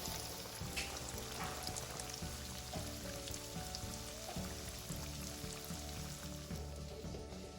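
Boneless curry fried chicken pieces, five at a time, sizzle steadily in hot oil, with a dense continuous crackle and hiss from close by that holds even throughout, no voices over it.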